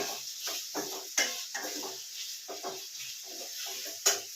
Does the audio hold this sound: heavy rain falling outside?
no